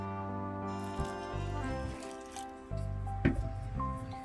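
Gram flour dough being worked with a ladle in a bowl just after hot water is poured in, soft wet squishing and scraping strokes with a few sharper knocks, close and quiet over a steady background hum.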